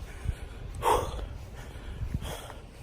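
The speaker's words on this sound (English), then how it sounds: "I'm breathing hard" A man breathes heavily after a workout outdoors, with a sharp gasping inhale, soft snorting breaths and a second exhale, close to the microphone.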